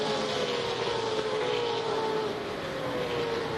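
Race cars in an IROC race on the Daytona road course roar past, a distant, steady engine whine with a slowly falling pitch, buried in broad crowd and track noise.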